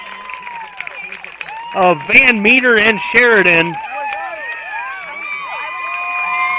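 A home crowd cheers and shouts after a high school baseball substate semifinal win in Ida Grove, a loud swell of voices under a commentator's talk that fades into lingering chatter.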